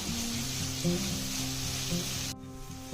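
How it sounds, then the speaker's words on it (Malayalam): Chopped onions sauté in a hot pan for a homestyle Kerala chicken roast: a steady, close, dense sizzle with faint stirring scrapes, which drops away abruptly near the end. "അപ്പൊ നമ്മുടെ സവാളയൊക്കെ ശരിക്ക് വഴറ്റി വന്നിട്ടുണ്ട്"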